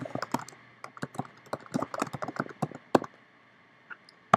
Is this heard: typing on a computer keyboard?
yes